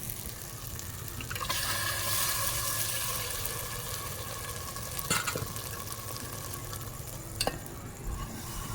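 Cooked mutton goes into a pan of black masala, and a continuous close sizzle follows with a swell of hiss early on and a few sharp scraping knocks from stirring, without talk.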